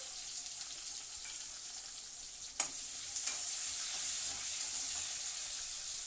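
Onion sizzling as it fries in hot oil with fennel seeds, cardamom and cloves for tomato bath, a steady close crackle with a couple of brief stirring clinks, no talk.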